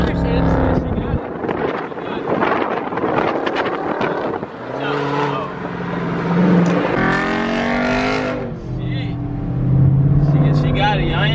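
A Jeep SRT engine roars and downshifts while driving, the revs rising and falling under loud, continuous talk from people in the vehicle.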